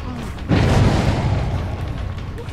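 A wooden pallet being smashed in the video game Dead by Daylight, a single loud booming crash that hits suddenly and fades out slowly over a couple of seconds, heard alone.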